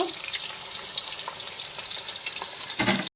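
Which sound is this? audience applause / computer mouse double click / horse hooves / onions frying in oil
onions frying in oil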